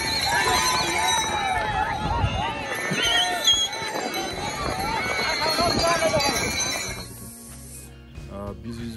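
Horse race final with four horses in Jumla, Nepal: repeated neighing and whinnying over rapid hoof clip-clop and a murmuring crowd with voices, fading to quieter ground noise near the end.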